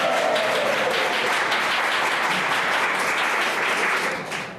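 A League of Women Voters audience applauding, dense continuous clapping from a crowd filling the room, steady and fairly loud before tapering slightly at the close.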